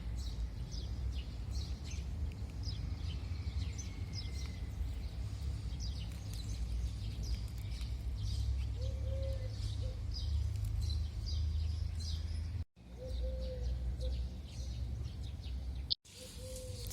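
Birds call and chirp through an early-morning garden among plants and flowers, many short high chirps scattered at moderate distance over a steady low background hum, with no one talking.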